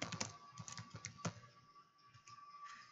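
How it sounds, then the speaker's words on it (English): Someone types on a computer keyboard with quick, irregular clicks and a few louder key strikes, then the clicks thin out and a faint steady hum remains underneath. "You can't see me typing this."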